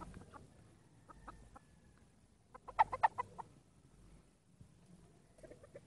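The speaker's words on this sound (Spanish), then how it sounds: "Este es el gallo." A rooster clucks in short, irregular bursts, with a louder cluster of clucks in the middle, fairly close amid quiet farmyard background.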